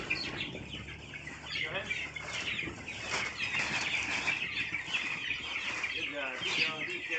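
A large flock of young chicks being scared up and herded out to pasture, dense continuous peeping and clucking with bursts of wing flapping, close and busy, while a person briefly speaks over it.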